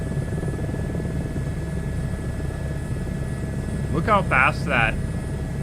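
A helicopter turbine spins inside a flight video game, giving a steady low engine drone that runs unbroken throughout, with a voice speaking briefly over it near the end.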